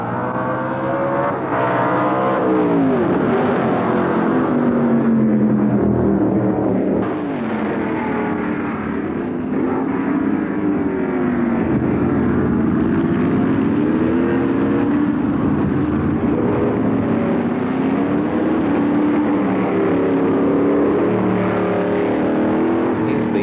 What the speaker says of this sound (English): twice previous winner Graham McRae, driving very smoothly, very nicely placed in 4th place in the race at this stage